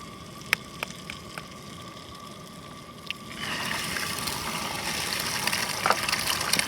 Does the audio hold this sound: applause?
no